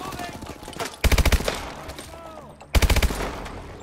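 Two quick four-round bursts from a burst-fire gun in Call of Duty: Advanced Warfare, each a tight, loud cluster of shots, separated by about two seconds of gameplay ambience.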